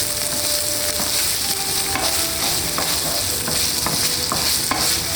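Ginger, garlic and spring onions fry in sesame oil in a pan, giving a loud, continuous sizzle with occasional scraping stirs, close up and with no voices.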